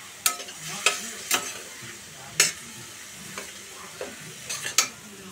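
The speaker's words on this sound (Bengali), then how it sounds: "এবার এটা মশলাটাকে কষাবো" A spice paste, loosened with a little water and sugar, is stirred and fried in a pan for a vegetarian taro curry. About eight sharp, close scraping strokes rise over a soft, continuous sizzle.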